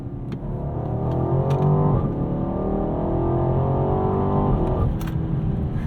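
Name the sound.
BMW Alpina B8 Gran Coupe accelerating with gear shift, Sport Plus mode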